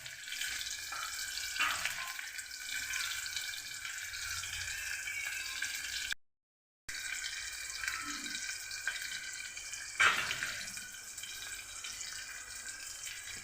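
Onions added to hot oil for chicken curry, frying with a continuous hissing sizzle, close by and moderately quiet, with a brief dropout midway and a faint clatter near the end.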